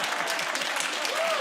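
Studio audience applause on a British comedy news panel show, a brief, even burst of many hands clapping close and full throughout.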